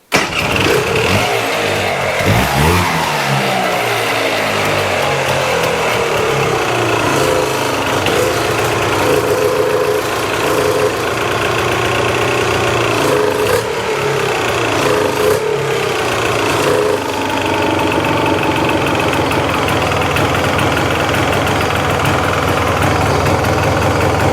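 A Polaris Sportsman ATV engine catches at the start and settles into a steady, loud, close idle with a slightly uneven throb throughout, no speech over it.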